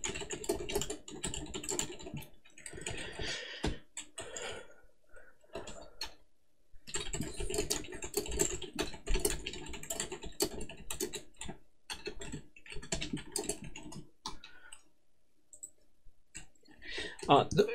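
Code comments are typed on a computer keyboard in rapid bursts of clicking key presses, broken by short pauses. A voice talks over much of the typing.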